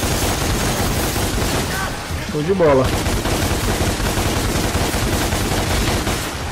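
Rapid gunfire from the Devil May Cry game, a dense continuous rattle of shots mixed with game effects and music, with a brief sweeping tonal effect partway through and a voice speaking over it.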